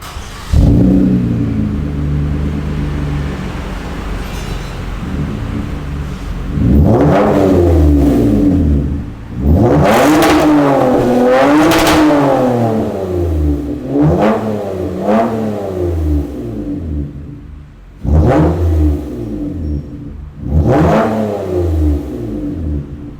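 Toyota Camry V6 with muffler and catalytic converter removed, revving hard in several loud, rising bursts that fall back to a rough idle between them, close and alone with no talk.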